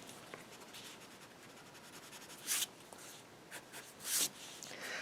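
A pencil sketches a figure's legs on paper with soft, faint scratching strokes, including a few brief sharper scrapes, in a quiet room.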